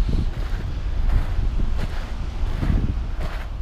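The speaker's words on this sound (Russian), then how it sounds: "Погода ветреная, но небо чистое" Gusty wind buffets the microphone on a sunny beach in Batumi, a continuous low rumbling roar that swells and eases in waves, with no voices.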